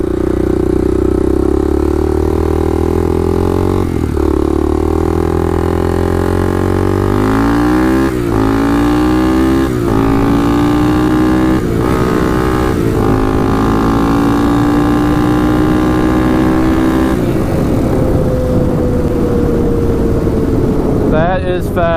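A Honda ATC 350x three-wheeler engine revs hard and climbs through several gear shifts, each shift breaking the rising whine before it builds again, loud and close throughout.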